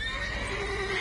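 Horse whinnying in The Witcher 3 video game, a brief, loud, close neigh with a wavering high pitch over a low rumbling background.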